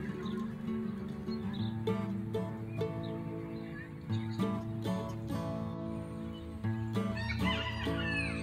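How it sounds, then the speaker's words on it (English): A rooster crows loudly in a morning farmyard, its long harmonic calls rising over a dense backdrop of clucking fowl and other animal noise, with no one talking. "it doesn't prevent him from crowing because he's still pretty loud in the morning"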